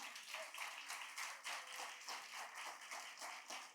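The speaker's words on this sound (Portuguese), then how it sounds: "Pode aplaudir o Senhor." A church congregation at an Easter service claps in a steady, rhythmic beat. The applause is faint and fairly distant, with evenly spaced bursts and no voices over it.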